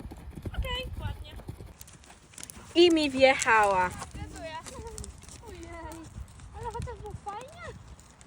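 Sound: horses walking, hooves clip-clopping

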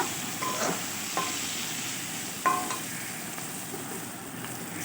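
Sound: spice paste frying in oil for hilsa fish curry

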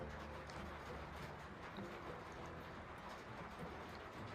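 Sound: rain

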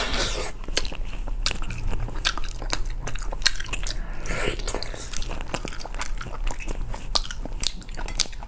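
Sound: eating spicy abalone snails, ASMR chewing

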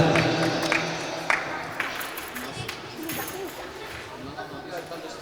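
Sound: applause for second place at a school football tournament

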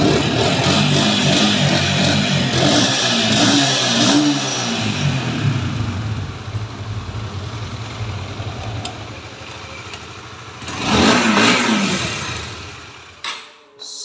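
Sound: motorcycle engine started and revving

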